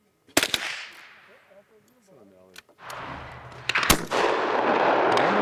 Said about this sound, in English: So I just shot my very first shotgun